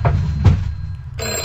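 A telephone rings in the horror video game Deep Sleep, giving two short ring bursts followed by a brighter, sustained ring, fairly loud over a low background hum.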